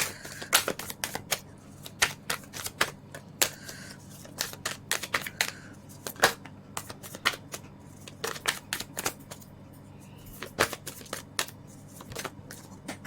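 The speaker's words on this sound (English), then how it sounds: "Let's shuffle your cards." Tarot cards are shuffled by hand nearby in a repeated series of crisp riffling snaps and slaps, in uneven bursts with brief pauses, no talking.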